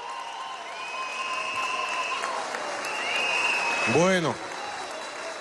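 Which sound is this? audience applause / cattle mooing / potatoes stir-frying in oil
audience applause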